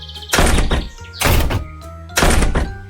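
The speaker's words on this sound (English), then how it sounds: "All 3 of them closed their doors with a bang." Three heavy bangs spaced evenly about a second apart, each a loud close thunk like a door slammed shut in a children's storybook scene, with a musical background underneath.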